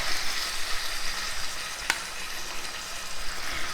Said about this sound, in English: the olive oil is heat up, so now I'm going to add the steak